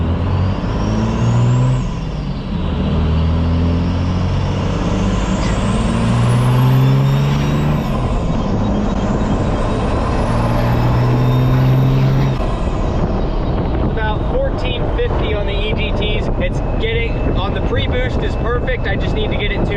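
A third-generation pickup truck swapped to a 12-valve diesel engine accelerates hard, its loud engine note climbing through several rising whistling sweeps before easing off into rattling noise, with speech mixed in.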